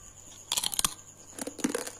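Someone bites into crunchy fried melinjo skin chips, producing two close, brittle bursts of crackling crunches separated by a brief pause.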